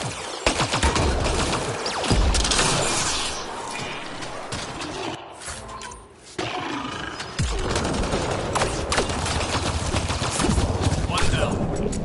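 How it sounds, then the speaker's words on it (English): Gunfire in Mass Effect Andromeda as a player shoots a Remnant device at a Kett technology site, dense repeated shots and impacts, loud and close, pausing briefly midway before resuming, with game dialogue mixed in. "Shooting the device will destroy it."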